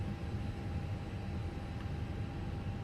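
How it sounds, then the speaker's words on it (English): An Airbus A320 engine spools up in a flight simulator game, heard as a steady, dense roar that holds at an even level throughout, with no voices. "And we got another engine starting just fine, looking pretty good."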